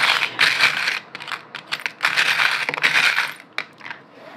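Small metal charms, including a key, are tossed onto a table for a reading, making close, bright clinking and jangling in several quick bursts as the pieces land, scatter and settle, with no talking.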